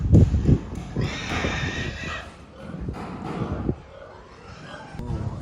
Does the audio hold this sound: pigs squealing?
yes